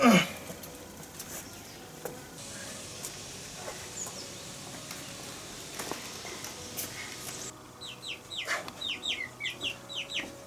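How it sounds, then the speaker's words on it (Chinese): A chicken clucks in short bursts, with higher chirping calls growing busier toward the end over steady background noise. "小鸡，你进来干嘛？"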